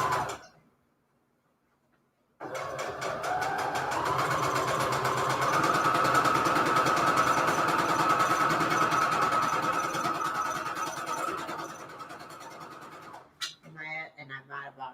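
A home sewing machine stitches Christmas fabric scraps for a junk journal cover, starting after a short silence and running as a steady whirring hum for about ten seconds before stopping, followed by quiet handling noises.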